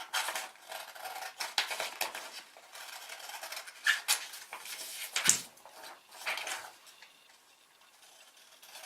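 Scissors cut around a paper pattern for a fabric waistcoat, giving soft, irregular snipping and rustling strokes at close range, with no talking.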